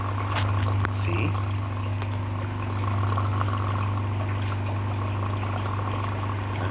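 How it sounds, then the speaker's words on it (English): Water pump pushing water into a plastic-lined hydroponic styrofoam box, a steady hum with continuous trickling and pouring water, fairly faint and unbroken throughout. "that's the water pumping in"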